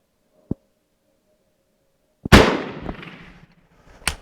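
Sharp gunshots from a Mauser 1895 Chilean or 1893 Spanish bolt-action rifle ring out outdoors: a small crack first, then a loud blast with a long rolling echo, and another close report at the end.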